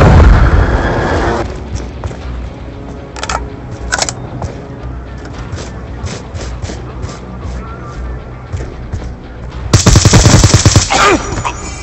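Gunfire and a grenade blast in the video game Black Ops 2, with rapid automatic shots and booms at the start, scattered shots through the middle, and a loud burst of fire near the end, while a voice speaks briefly.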